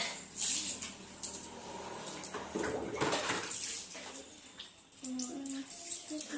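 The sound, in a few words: water being poured indoors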